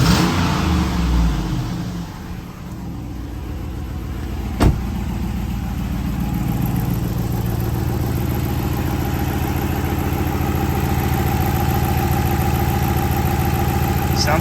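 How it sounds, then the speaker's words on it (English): A Chrysler 300C engine idles steadily and loud, its exhaust rumbling low and constant, with one sharp click partway through. "I can't tell what is exhaust noise and what could be engine noise"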